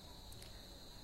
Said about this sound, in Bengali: প্রচন্ড ঝিঝি ডাকছে